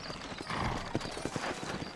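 Horse hooves clip-clop in the video game Red Dead Redemption, giving a steady run of soft, irregular thuds over a low ambient bed of background game sound.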